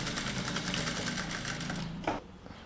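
A sewing machine stitching dress fabric whirs in a rapid, continuous run that stops abruptly near the end, followed by a short clack.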